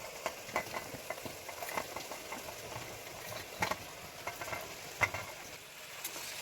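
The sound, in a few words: chicken meat frying in a pan for biryani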